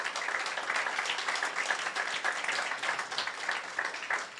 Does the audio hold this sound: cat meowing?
no